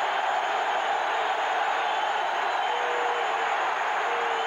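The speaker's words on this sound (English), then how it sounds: "The crowd in an uproar." Stadium crowd roaring steadily at an NFL football game after a defensive play by Lawrence Taylor, a dense, continuous wash of cheering that stays loud and even throughout.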